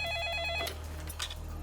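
A telephone rings with a short electronic trill that stops abruptly partway through, against a quiet background hum.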